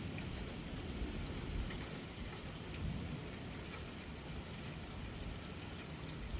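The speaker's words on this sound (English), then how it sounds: "The rain was relentless, as if the storm itself was trying to drown the world." A steady rain and thunderstorm sound effect on a rainy night: dense, even rainfall with low thunder rumbling underneath, continuous and without voices.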